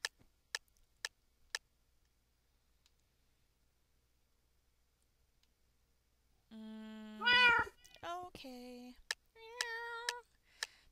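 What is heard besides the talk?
cat meowing in Minecraft video game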